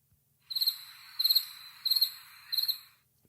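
Crickets chirp in four evenly spaced bursts of rapid, high trills, each pulse cluster clear and close against near silence, with no voices.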